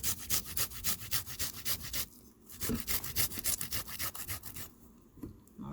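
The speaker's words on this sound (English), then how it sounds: "Now grate the garlic then." Garlic being grated produces a rapid, rhythmic rasping scrape, repeated strokes close up and steady, with a brief pause midway before the scraping resumes.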